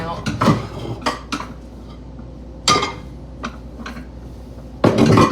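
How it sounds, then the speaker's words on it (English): A small pan is pulled out from among dishes, giving a run of separate clanks and clinks of metal and crockery, close and uneven, with quiet gaps between the knocks. "Oh, let me get my small pan out."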